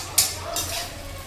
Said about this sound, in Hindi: बस प्याज को हल्का सा भून जाने देते हैं